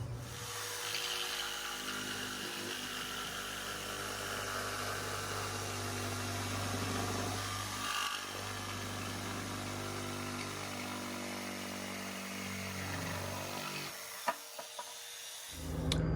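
A power saw cutting across a wooden board guided by a clamped straight edge, a sustained loud whining motor drone that cuts off abruptly near the end, followed by a few small knocks.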